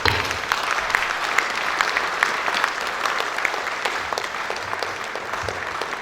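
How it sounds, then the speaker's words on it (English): Sustained applause from an audience at a university lecture event, a dense, steady wash of many hands clapping that holds at an even level throughout with no voices over it. "Let's keep the applause going"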